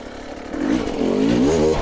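Hard enduro motorcycle engine revving loudly and continuously while riding through a technical section, the pitch climbing and wavering close up with no voices.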